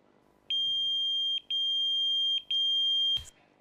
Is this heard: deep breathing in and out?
no